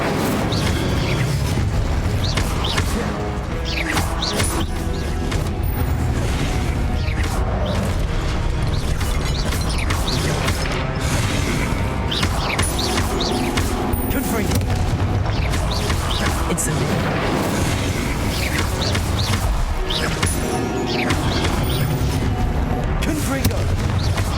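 Incendio and Confringo fire spells burst in Hogwarts Legacy combat, dense booming blasts and crackling impacts layered almost continuously at loud level, with a voice calling out spell names amid the fight.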